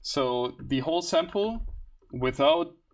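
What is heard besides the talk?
No distinct noise like a dog, phone or traffic.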